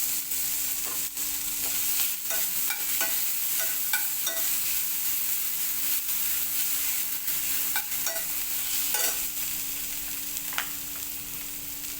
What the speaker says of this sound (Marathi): सामोसे करताना जे सारण करायचे त्याच्यासाठी प्रथम आपण अगदी एक लहान चमचाभर तेलात जिरं घालायचे, नंतर वाटलेलं मिश्रण घालायचे